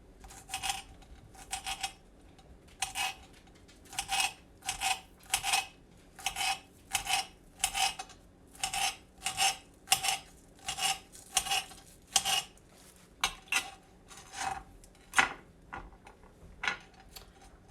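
A knife chops the ends off scallions on a cutting board, giving a steady series of about twenty crisp, close cutting strokes in a regular rhythm with brief gaps.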